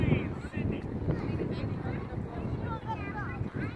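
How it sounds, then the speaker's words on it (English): Wind buffets a microphone outdoors at a youth soccer game, making uneven rumbling gusts throughout while people talk nearby. "It's the wind."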